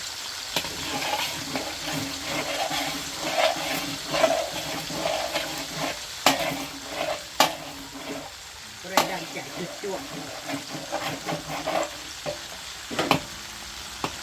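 Eggs stir-fried in a hot pan for a Thai home lunch, with a steady sizzle broken by repeated sharp scrapes and clanks of a utensil against the pan, and someone talking now and then over it.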